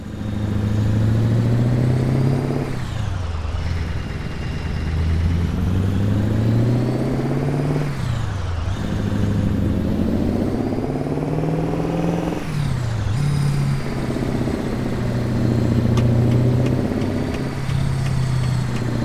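A Peterbilt 351 truck engine in American Truck Simulator hauls a heavy load with a loud, steady drone that rises in pitch and then drops at each gear change, repeating through about nineteen seconds with no voices.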